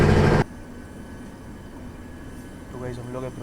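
The 12445 Uttar Sampark Kranti express runs from Delhi toward Katra with a steady rolling rumble from inside the coach. A loud burst opens it, and a faint voice rises near the end.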